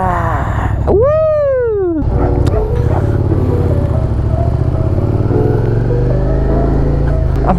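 A 2021 Suzuki SV650 motorcycle's engine rumbles loudly and steadily during a ride, with a sharp rising and falling whine near the start, heard close up.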